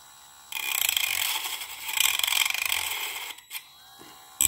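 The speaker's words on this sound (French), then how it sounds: "Donc je vais essayer de couper un morceau de goulotte. Je l'allume." A Parkside PFBS12B3 precision grinder-drill cuts into plastic cable trunking, giving a loud, close, buzzing whine with gritty rasping that lasts about three seconds, then brief bursts as it stops.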